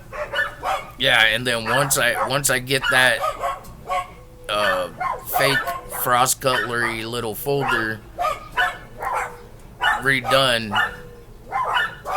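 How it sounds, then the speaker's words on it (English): Dogs bark and yip repeatedly indoors, with some whining, mixed in with and partly under someone talking close to the microphone. "sorry about my dogs."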